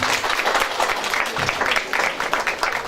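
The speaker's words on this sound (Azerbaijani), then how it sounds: "bir ürəkdən alqışlayaq" An audience at an exhibition of young artists with physical disabilities claps steadily, a dense and even wash of applause lasting the whole stretch with no voices standing out.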